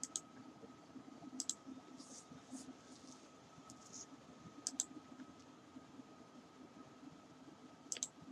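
Faint, isolated clicks of a computer mouse, about four single or double clicks spread over several seconds, over a low, steady room hum.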